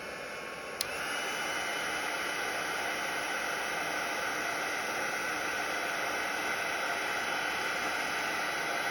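A heat tool warms silver embossing powder on a crafting project. After a brief click it gives off a steady, close, even hiss-like whoosh that continues unchanged with no talking.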